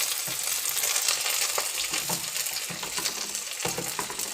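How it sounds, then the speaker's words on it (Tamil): Green chilies, cinnamon and cloves spluttering in hot oil, giving a dense, bright crackling sizzle with scattered sharp pops and light stirring, close up and fairly loud, no speech. "பட்டை கிராம்பு நல்லா பொரிய ஆரம்பிக்கிறதுக்கு முன்னாடியே நீங்கள் பச்சை மிளகாய் போட்டுருங்க. பொரியிடும்."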